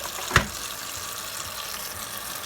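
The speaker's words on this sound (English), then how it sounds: "I'm gonna turn cold water on." Cold water running from a kitchen tap into a sink to wash polk sallet greens, a steady close rushing flow after a brief knock as the tap turns on, no voices.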